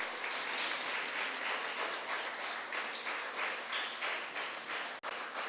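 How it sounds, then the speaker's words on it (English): An audience claps steadily for students at a Special Education Week opening ceremony, dense and even, with a brief dip near the end. "Let us give our students a round of applause again."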